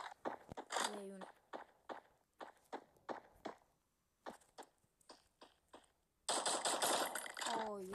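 Rapid gunfire from a weapon in a video game, quick bursts of sharp shots interspersed with footstep-like taps and louder noisy stretches, fairly faint overall, with a person speaking over it.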